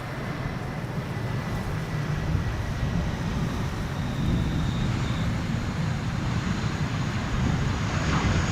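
A MASkargo Airbus A330-200 cargo jet arrives at Schiphol's Polderbaan runway, its engines a steady broad roar with gusty wind rumble, moderately distant and continuous.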